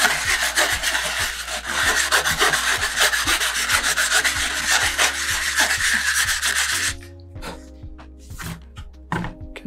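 A model rocket body tube is sanded by hand, turned in the fingers while the paper moves in circles. It gives a close, rapid, rhythmic rasping that stops abruptly, then a few scattered scuffs.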